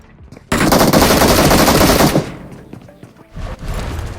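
A sustained, loud burst of M249 light machine gun fire in the mobile battle royale game BGMI, rapid continuous shots for about two seconds, then quieter distant gunfire trailing off.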